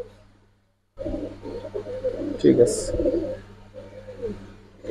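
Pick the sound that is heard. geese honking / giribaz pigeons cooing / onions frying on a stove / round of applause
giribaz pigeons cooing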